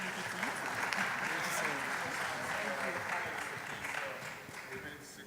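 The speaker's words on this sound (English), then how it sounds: "please give them a round of applause." Audience applause for a panel of speakers at a business economic outlook event in Nigeria, steady clapping from a large crowd sustained throughout and slowly tapering toward the end.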